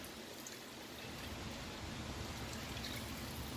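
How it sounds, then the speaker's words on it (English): Plain water poured into a pot of chicken drumsticks for braising, a steady continuous close stream running without a break. "I'm just going to add in plain water. Just enough to cover."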